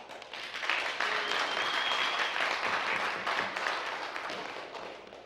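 Sustained applause from an audience in a city council chamber during a candidate forum, a steady wash of many hands clapping that swells slightly and tapers at the end.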